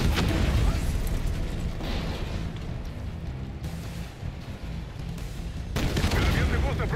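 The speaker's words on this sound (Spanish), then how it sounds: "¡Explosiones en todas partes!" Dense, continuous explosions and heavy gunfire rumble through a battle scene in the video game Call of Duty: Black Ops 6, loud and boomy throughout, with voices mixed into the din.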